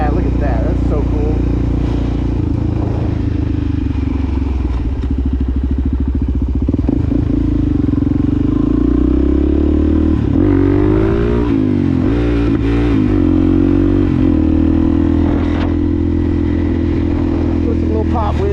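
Suzuki DRZ400 SM supermoto from 2020 with a Yoshimura exhaust ridden at night along a beach road, its single-cylinder engine droning loudly and steadily close up, with rev changes and a voice heard over it.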